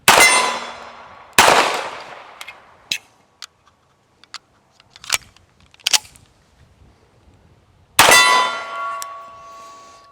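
Metallic clangs and clicks from reloading a Tisas 1911A1 US Army pistol, with a loud magazine drop and slide slam at the start and end and sharp small ticks and snaps between, close and with no talking.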